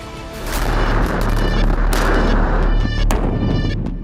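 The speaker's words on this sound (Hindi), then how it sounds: "ताबड़तोड़ गोलियां चल रही हैं" Rapid gunfire and heavy booms during a staged military exercise with ground forces and fighter jets, loud and continuous with sharp cracks over a deep rumbling bed.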